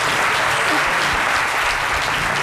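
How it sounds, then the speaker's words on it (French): Studio audience applause during a French-language midday television show, a dense, loud, continuous wash of clapping from many hands with no break, filling the whole stretch. "Merci d'applaudir très fort Jessica Bamba."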